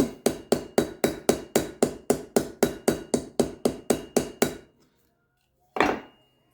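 A hammer peens a brass rivet on a knife handle with about sixteen sharp, evenly spaced strikes, then a pause and one final blow.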